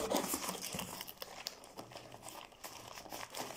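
Plastic wrapping crinkles and tears in repeated rustling bursts, close up and fairly quiet, with no talking.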